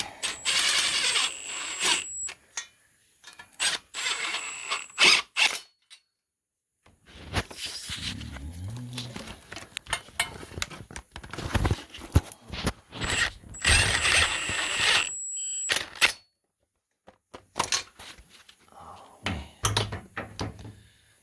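A socket wrench on a 1993 Nissan NX 2000 SR20VE swap project clicks in bursts of ratcheting and metallic mechanism noise, broken by short pauses and clanks, fairly close.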